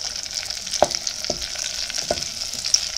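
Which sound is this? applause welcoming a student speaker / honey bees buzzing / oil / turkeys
oil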